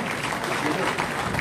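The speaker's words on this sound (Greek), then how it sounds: "του δώστε το ένα χειροκρότημα" An audience claps steadily at a gathering on Kalymnos in 2024, a dense, even patter of many hands, with a voice speaking over it.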